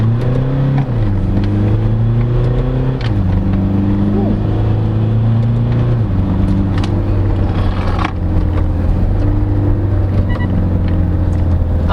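A 2017 Mitsubishi Montero Sport GLS 4x2 with an automatic transmission pulls away from a standstill. Its loud engine drone climbs in pitch, drops back at each shift, and climbs again, heard from inside the cabin without talk.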